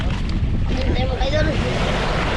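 Rough, choppy sea around a small boat, with continuous heavy wash of water and wind buffeting the microphone; a voice is faintly audible underneath.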